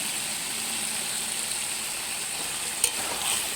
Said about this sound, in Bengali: এই যে আমি গাঁটি কচুগুলো দিয়ে দিচ্ছি।